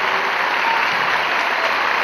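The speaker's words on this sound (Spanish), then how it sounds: "un gran aplauso a todos mis músicos que me han venido acompañando durante muchos años" Concert applause for the band, a dense, steady wash of clapping from a large audience that fills the whole stretch without a break.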